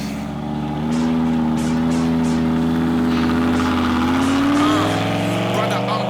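A yellow Lamborghini's engine idles then rises into a loud, steady rumbling drone as it pulls away, holding close and strong with a smooth upward sweep in pitch, while voices speak faintly over it.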